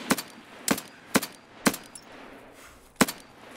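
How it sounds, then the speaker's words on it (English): Enemy PMC gunfire in Escape from Tarkov: five loud, sharp single shots crack out at uneven intervals, each with a short echoing tail, close and without any talking. "someone's shooting at me"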